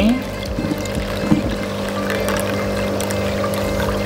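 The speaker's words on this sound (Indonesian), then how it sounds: "Nah, tinggal dituang ke jaring artemia." Water with hatched brine shrimp poured into an artemia net, a steady close pour running throughout with a few small splashes near the start.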